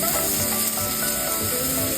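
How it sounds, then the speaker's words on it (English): Vegetables sautéing in a pan for a frittata, a steady loud sizzle and hiss that fills the moment with no one talking. "First, we're going to let this start to saute until we see that it softens just a bit."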